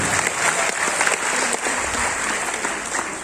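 An audience at a training programme for Malappuram dealers claps throughout, a dense, steady roar of many hands at close range with no pause.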